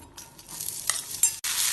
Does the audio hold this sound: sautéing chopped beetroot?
yes